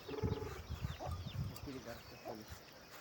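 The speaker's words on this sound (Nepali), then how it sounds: "कुखुरा परेवा मिलेर चारो खान्छन्।" Chickens clucking softly nearby while pecking at feed alongside pigeons, short repeated calls at low volume with a voice speaking in the background.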